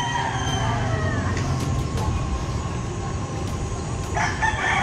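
Roosters crow in a neighborhood in Barangay South Triangle, with a fairly distant crow early on and a stronger one near the end, set against continuous street ambience.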